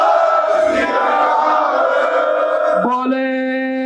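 A Sikh congregation roars a jaikara response in unison, a loud, massed wall of shouting voices that ends with a single sustained, ringing voice.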